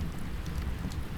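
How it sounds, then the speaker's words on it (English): Rain patters steadily on a tent during a night storm while campers shelter inside, a dense, continuous soft drumming with low rumbling underneath, no voices. "The tap-tap-tapping of the rain on our tent"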